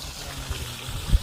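Water streams steadily from a pump outlet while the pump runs on automatic, a continuous soft rushing wash with a faint low rumble and a small thump near the end.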